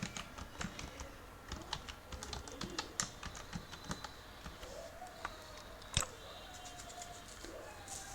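Rapid, uneven keystrokes on a computer keyboard as login credentials are entered, close and clear, with short pauses between bursts of clicks.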